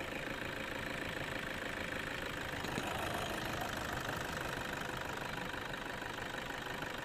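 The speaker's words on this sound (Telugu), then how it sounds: "ఇంజన్ బ్రీతింగ్ చూడండి, చాలా సైలెంట్గా ఉందండి" A 2010 Toyota Innova V idles smoothly, a steady low mechanical hum with faint rhythmic knock and vibration, constant in level throughout with no voices.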